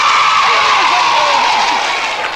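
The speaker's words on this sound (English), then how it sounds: "give Miss Bagley a big round of applause." Audience at a school show applauding and cheering for a teacher, a dense, loud crowd roar close by that fades slightly toward the end, with voices mixed in.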